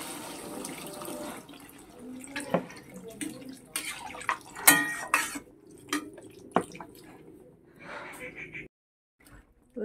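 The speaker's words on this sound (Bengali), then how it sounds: "এবারে জল দিয়ে দিচ্ছি" Water is poured into a pan of fish and potato curry, giving splashing and trickling with scattered clinks of the pan over a few seconds, ending in quiet.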